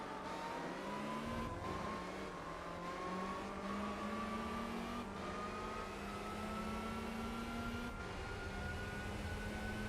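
A Ford Escort Cosworth engine in the racing game Gran Turismo 4 gives a steady, even drone whose pitch climbs slowly, heard alone without talk.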